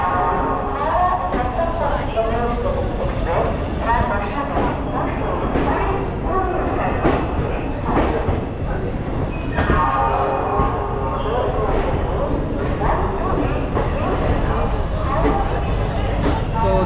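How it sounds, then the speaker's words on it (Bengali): The Kalka Mail, train 12311, runs from Howrah to Kalka as a loud, continuous rumble heard from inside a passenger coach, with rattling, clattering wheels and some muffled voices mixed in. "আমাদের ট্রেন ঠিক টাইম মতন ছাড়লো নটা বেজে পঞ্চান্ন মিনিট ছিল"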